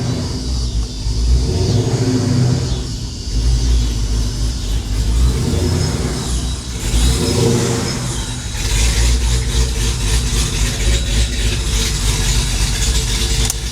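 Supercharged built 392 HEMI RAM truck engine pulls in with a steady, loud low rumble, rising and settling as it revs gently near the listener, with no talking over it.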